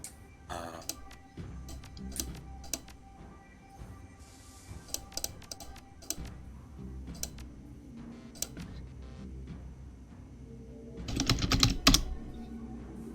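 Typing on a computer keyboard, irregular close key clicks scattered over several seconds, then a dense, louder burst of rapid keystrokes near the end, with faint background sound between.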